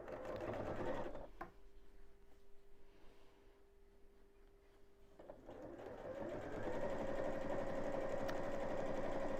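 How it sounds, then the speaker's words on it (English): A sewing machine stitches fabric along a creased fold line, giving a steady mechanical whir that pauses briefly and then resumes and grows louder, heard close up and without talking. "then I'm going to start sewing right at the end and sew down that crease line again."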